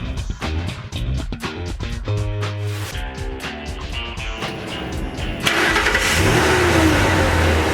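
A car engine runs with a steady, muffled rumble with its electric exhaust cutout closed, then turns rougher and louder toward the end.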